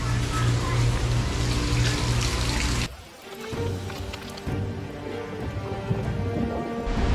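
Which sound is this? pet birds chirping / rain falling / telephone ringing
rain falling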